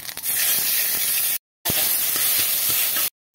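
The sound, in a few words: cumin and five-spice seeds sizzling in hot oil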